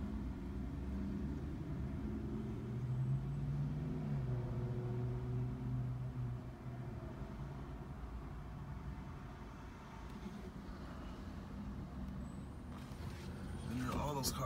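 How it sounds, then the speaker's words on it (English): Traffic near a Walgreens rumbles on a street, a continuous low engine drone with heavier vehicle sounds swelling and easing, plus a faint brief horn-like tone near the end. "And there are all those cars over there for Walgreens."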